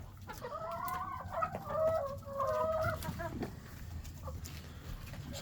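Brahma hen clucking in a series of close, tonal calls over several seconds in a coop bedded with wood shavings, over a low background hum.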